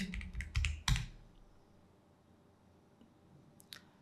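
Typing on a computer keyboard during SketchUp modelling work, a quick burst of close, crisp key clicks at the start, then quiet with a couple of faint taps later.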